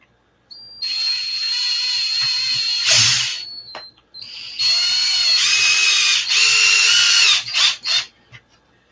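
A power drill drives upsized screws into the front differential of an Arrma 6S RC car, a clicking diff. There are two long, loud whirring runs, each ending in short bursts, close up, with no talk.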